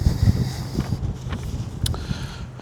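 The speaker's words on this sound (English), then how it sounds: "It's a extremely windy day out." Steady low rumbling wind buffets the microphone, with a few faint knocks and rustles mixed in.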